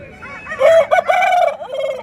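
A rooster crows loudly and close by at a poultry market in Nallapadu, one full drawn-out call with a wavering, strained finish.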